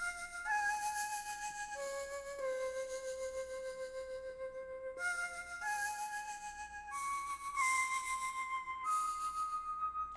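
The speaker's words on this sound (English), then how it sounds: "Next, we got this flute from Omnisphere." An Omnisphere flute preset plays a simple melody for a hard Detroit-style beat, with sustained breathy notes stepping up and down in a clear repeating pattern, soft and alone.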